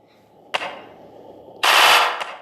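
Two rapid bursts of submachine gun fire from the video game Melon Playground, a short crack followed by a longer, louder rattling volley, with quiet between them.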